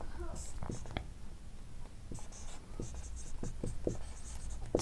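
Pen strokes scratch across paper while a math formula is written out, with short repeated bursts of writing and soft low handling noise in a quiet room.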